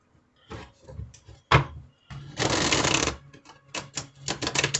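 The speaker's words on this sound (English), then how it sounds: "you never know what's going to happen during the shuffle" A tarot deck is shuffled by hand in uneven bursts of papery riffling and tapping, with one longer continuous riffle in the middle and no talking.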